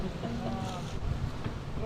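Strong wind roars steadily across an open-water setting, a constant rushing blast close to the microphone, with water churning underneath.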